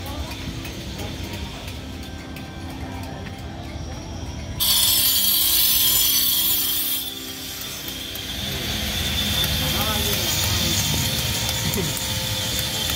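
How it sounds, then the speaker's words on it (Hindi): Stone for the perimeter wall being carved at the Ram Janmabhoomi workshop in Ayodhya, a steady mechanical grinding and whirring drone that swells into a brighter, louder burst midway, with a voice speaking over it. "यहाँ पर परकोटा के पत्थरों को तेजी से तराशा जा रहा है।"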